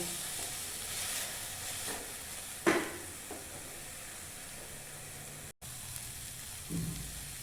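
Chopped tomato frying in a pan for a chicken gravy, a steady soft sizzle throughout with a few louder spoon scrapes and stirs, a brief dropout near the end.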